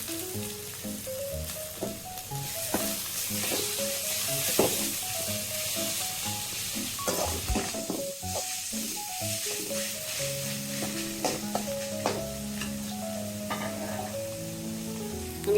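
Cauliflower stems fry steadily in hot oil in a pan, a continuous close sizzle broken by scraping and clacking stirs from a utensil, with no voices over it.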